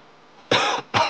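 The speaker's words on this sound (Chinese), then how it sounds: "咳嗽，全身无力，" A patient with a fever and weakness coughs twice during a doctor's examination. Two loud, close, harsh bursts come in quick succession after a quiet pause.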